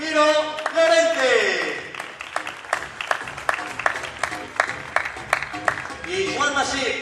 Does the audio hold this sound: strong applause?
yes